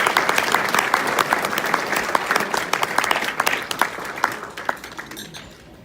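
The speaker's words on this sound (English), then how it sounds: "Let's give Bill a round of applause" Audience at a chamber of commerce Person of the Year banquet applauding an honoree named Bill, steady dense clapping from a full room that fades out near the end.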